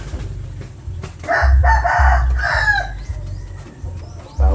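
A native rooster crows loudly and nearby in one long, drawn-out call, with low clucking and farmyard noise around it.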